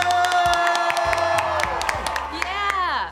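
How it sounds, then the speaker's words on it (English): Audience at an online review party clapping and cheering together, a dense steady crowd noise with whoops and shouts throughout, loud and close. "let's get ready to clap and cheer and make some noise"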